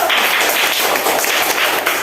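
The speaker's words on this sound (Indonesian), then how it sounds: "Kasih tepuk tangan dulu." A classroom group of students claps together in applause, a dense, steady patter of many hands at close range with a few voices faintly mixed in.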